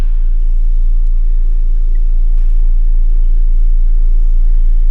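A 2018 Chevrolet Colorado's 2.5L four-cylinder engine at 63,560 miles idles steadily, a constant low rumble and hum heard from inside the cab, with no talking.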